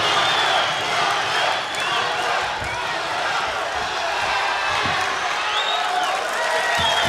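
A crowd at a jiu-jitsu match roars and cheers in a loud, unbroken wash of voices that fills the whole stretch, with scattered thumps and claps beneath it.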